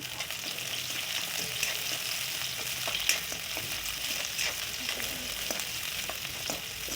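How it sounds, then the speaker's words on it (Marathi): Chopped onion fries in hot oil, a continuous close sizzle with scattered pops and crackles and the occasional stir of a spatula, with no speech. "तेल तापलं आता त्यामध्ये कट केलेला कांदा क केलेला कांदा छान कलर चेंज होतपर्यंत परतून घेतला"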